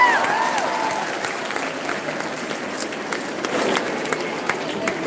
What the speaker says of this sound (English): A big round of applause to Umesh sir.